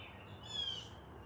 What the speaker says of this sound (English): Yes, the birds sound amazing.